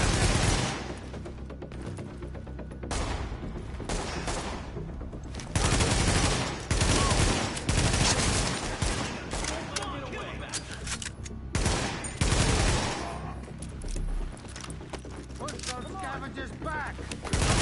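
Gunfire in the shooter game Tom Clancy's The Division: dense, continuous bursts of automatic weapon fire and loud shot clusters fill the whole stretch, with brief pauses between volleys.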